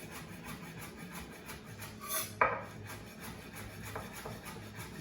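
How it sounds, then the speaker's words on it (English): A chef's knife thinly slicing bunches of green onions on a cutting board, a soft rhythmic run of quick light cuts with one sharper knock, close and quiet, no talk. "I slice it really thin"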